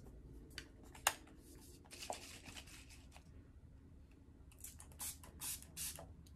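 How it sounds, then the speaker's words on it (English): MAC Fix Plus setting spray misted onto a makeup brush, a few short, faint hissing bursts near the end after some soft handling noises in a quiet room. "I'm gonna go in with my MAC Fix Plus and spray my brush."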